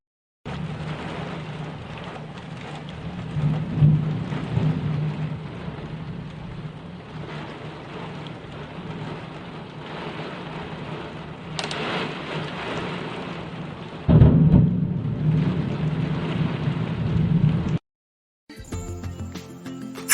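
Heavy rain in Jakarta with thunder: a steady hiss of downpour broken by low rumbling swells, and a stronger crack-like burst near the end before the sound cuts out abruptly.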